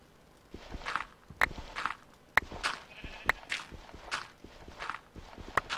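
Sheep bleat in a blocky building game amid steady footsteps, several short bleats scattered over the clip alongside sharp clicks and soft crunching steps, no talk.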